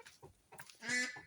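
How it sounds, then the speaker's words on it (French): A small chicken clucks and squawks close by in a farmyard, a few short calls ending in one louder, drawn-out cry. "Ça, c'est un petit poulet."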